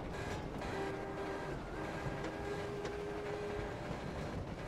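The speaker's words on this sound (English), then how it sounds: "The train's a really nice add-on in this game." A train rolls past in the World War I shooter Battlefield 1, a steady low rumble with faint sustained tonal hums, continuous and moderately quiet for the whole stretch with no talk over it.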